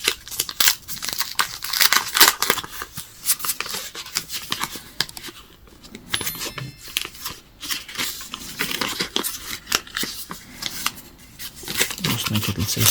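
Paper wrap crinkling and tearing as it is peeled off a Samsung Galaxy A06 phone during unboxing, a close, busy run of rustling, scraping and ripping that continues throughout.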